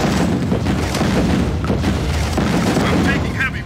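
Heavy artillery blasts in a real-time strategy video game rumble continuously and loudly, dense booms overlapping with gunfire and short unit voice lines.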